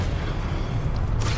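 A Confringo fire spell blast in Hogwarts Legacy, heard as a dense, loud low boom that rumbles steadily for the whole moment.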